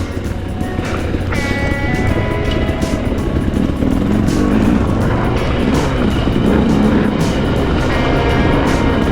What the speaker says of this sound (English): The new 300, I love this bike.